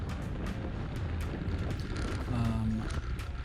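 Strong crosswind roars across a cyclist's microphone during a Cat 4 criterium race on Randall's Island, a steady loud broadband rush with gusty surges and no pause throughout.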